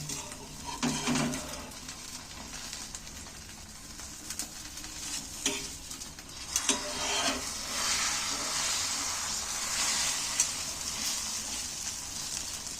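Egg and gram-flour batter sizzling steadily in hot oil in a pan while an egg roll is turned and rolled, with occasional scraping and stirring clatter over a continuous fry hiss.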